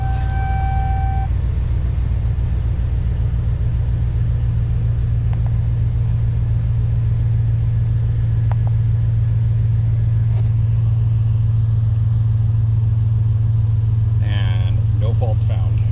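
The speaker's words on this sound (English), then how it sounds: "let me start the truck" A pickup truck with a P0332 knock sensor fault idles after starting, giving a steady, loud, low engine rumble that holds evenly throughout.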